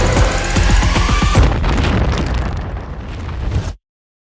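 A loud, booming explosion from a Tamil film teaser, preceded by sharp percussive bursts before a long rumbling roar that cuts off abruptly.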